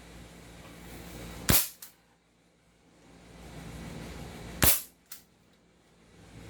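An MK1 carbine airsoft sniper rifle fires two sharp, loud shots about three seconds apart, each trailed by a quick, fainter mechanical click, over a soft outdoor background hiss with no talking.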